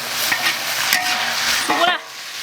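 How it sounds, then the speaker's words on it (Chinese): Beef with green peppers and coriander is stir-fried in a wok, a close, loud sizzle with scraping stirring strokes that stops abruptly near the end. "因为我下的香太多，所以要炒一下啊"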